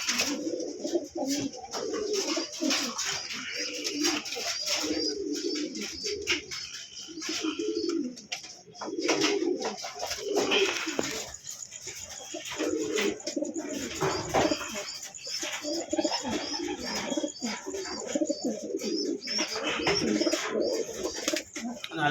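Large Karna pigeons coo over and over in a cluttered coop, deep throaty coos layered with busy background chatter and occasional wing rustles throughout.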